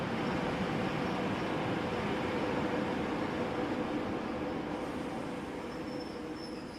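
Steady, unbroken rumble and clatter of a long freight train of tanker cars carrying crude oil rolling past in Central Asia, fading slightly toward the end.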